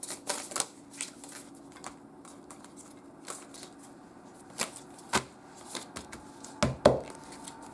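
Tarot cards being shuffled in a flurry of quick, dry papery slaps and riffles, irregular and close, with a few sharper snaps near the end.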